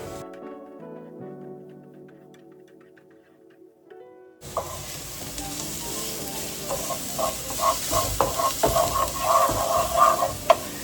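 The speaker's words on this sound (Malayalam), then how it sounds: "നമുക്കിതൊന്ന് ജസ്റ്റ് ഇളക്കി കൊടുക്കാം." Short music passage gives way to ginger-garlic masala for egg roast being stirred in a hot pan, with crackling sizzle and irregular scraping strokes that grow busier toward the end.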